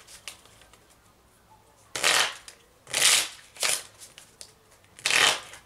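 Tarot cards of a love deck being shuffled up close in several short riffling bursts, each lasting under a second, separated by quiet pauses.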